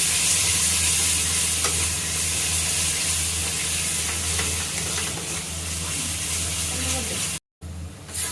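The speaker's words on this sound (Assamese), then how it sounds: "এয়া অকণমান ৰেড চিলি পাউডাৰ দি দিছোঁ। আৰু এতিয়া ধুনীয়াকৈ লৰাই দিম।" Fish masala and red chilli powder fry in a pan for a fish curry, a loud continuous sizzle with stirring scrapes over a low hum, cutting out briefly near the end.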